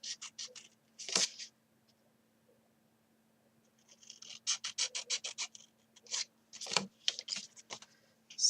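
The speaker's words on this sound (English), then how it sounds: "cut that one across." Scissors cut card for a daisy candle box in a quiet room, with several bursts of crisp, close snipping and slicing strokes separated by pauses.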